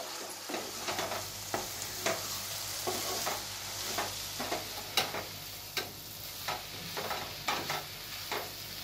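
Sliced bananas stirred and mixed in a frying pan while making a Janmashtami prasad, with a steady sizzle under repeated scraping strokes of the spoon at a regular rhythm, close and moderately loud.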